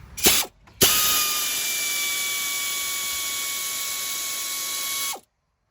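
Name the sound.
ratchet removing a bolt on a GMC Yukon XL Denali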